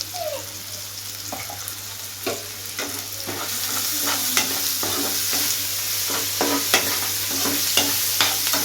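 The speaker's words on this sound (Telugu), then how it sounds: "మాల్ మసాలా వేసి లాస్ట్కి నూడిల్స్ వేసి మిక్స్ చేయాలి" Maggi noodles are stirred through masala, onions and tomatoes in a hot pan, with repeated scraping strokes over a steady sizzle that grows slightly louder, close up and with no talk.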